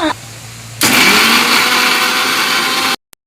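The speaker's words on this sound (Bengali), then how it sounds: "আমি এবার যে পেঁয়াজ রসুন আর আদাটা নিয়েছিলাম, তা সেগুলো একটু বেটে নেবো" An electric grinder whirs into action on garlic and ginger for a paste, starting abruptly after a quiet moment, running loud and steady for about two seconds, then cutting off sharply with a couple of small clicks.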